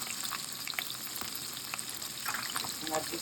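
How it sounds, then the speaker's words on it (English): Steady, dense sizzling of onions frying in a hot pan, a continuous crackling hiss with small pops, close and fairly quiet, no voices. "You throw in the onion. It should be sizzling like this."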